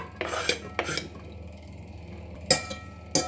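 Dry peas are tipped into a multicooker pot in a few short rattling bursts, a clattering patter against the metal, with quiet gaps between pours and no speech.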